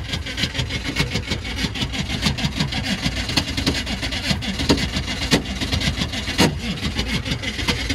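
A Detroit Diesel engine's starter cranks with parts rubbing, giving a continuous grinding, scraping drone with an uneven churn and a few sharper knocks, loud and close throughout.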